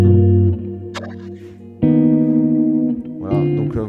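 Electric guitar played through a reverb effect: a few sustained notes and chords ring out loud and close, each struck note trailing a long, washy decay into the next.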